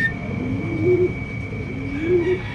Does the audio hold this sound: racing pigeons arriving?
yes